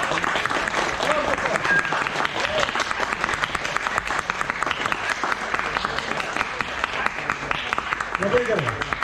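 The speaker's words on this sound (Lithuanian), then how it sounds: "padarom kokį normalų, pagarbų 10 sekundžių plojimo muziejų" Sustained audience applause fills a science museum hall, dense and steady for about nine seconds, with faint voices surfacing near the end.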